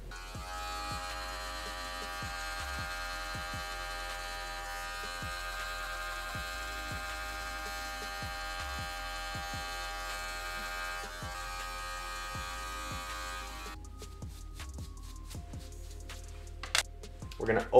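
Electric hair clippers hum steadily through a self-done fade haircut, a dense buzzing drone with faint periodic ticks, then cutting off near the end to leave quieter handling noises and a couple of short knocks.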